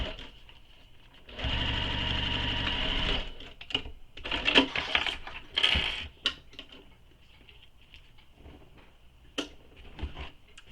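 A sewing machine stitches a bag's lining in one sustained run of rapid mechanical whirring, followed by scattered clicks, taps and handling noises as the fabric is shifted.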